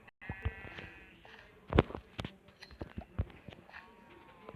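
Sheep bleat in a video game, with several short, scattered bleats mixed with soft clicks and small game noises at a moderate level.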